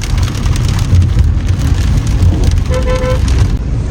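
Heavy monsoon rain pours down on the road near Rupnagar, a dense, continuous close hiss of drops hitting surfaces, with a low rumble underneath and no one speaking.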